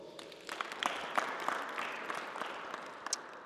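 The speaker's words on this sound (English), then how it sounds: "Please give them a round of applause" Faint, sparse clapping from a small group at a tennis camp session, welcoming two volunteers. Scattered individual claps sound over soft background noise, distant and thin, for a few seconds.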